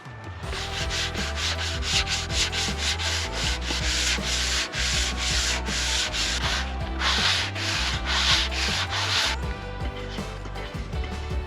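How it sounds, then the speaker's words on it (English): Close, continuous scratchy rubbing as a varnished tabletop of reclaimed wood, meant for a bar table, is given a light sanding. The rhythmic back-and-forth strokes carry on throughout with no speech. "I'm going to give it a light sand and then get the final coat of varnish on this tabletop"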